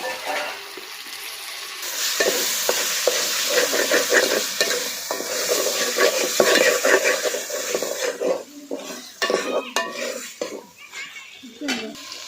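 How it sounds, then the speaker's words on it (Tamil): Tomatoes with ginger garlic paste and salt sautéing in a pan, a steady close sizzle under frequent metal spatula scrapes and clanks against the pan, with a voice faintly in the background. "உப்பு போட்டு நல்லா தக்காளி வதங்கணும்"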